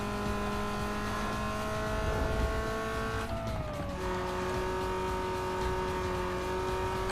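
A race car in NFS Underground 2 runs at full throttle with a loud, sustained engine roar. A brief dip in pitch marks a gear change before the high drone climbs steadily again.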